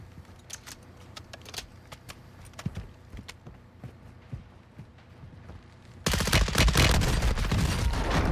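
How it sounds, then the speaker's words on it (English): Hip-fire gunfire in the game Warzone 2 with a modded build, first heard as scattered clicks and clatter, then breaking into a loud, sustained burst of rapid automatic shots for the last couple of seconds. "This hip fire is absolutely insane."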